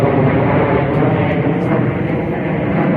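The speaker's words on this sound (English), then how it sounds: "Plane flying overhead." Airplane passing overhead outdoors, a steady broad low rumble that holds loud and even throughout without any voices over it.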